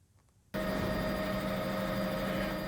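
A rescue helicopter's loud, steady rotor and engine roar cuts in abruptly after a quiet start and continues unbroken, close and dominant, as it flies over flooded roads.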